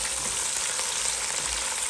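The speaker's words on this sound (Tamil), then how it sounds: "அதை நல்லா வதக்க போகிறோம். செம்மையாக போட்டு வதக்கிட்டு இருக்காங்க." Onions for mutton biryani sauté in a pan with a constant, bright sizzle, close and fairly loud across the short stretch, no talking.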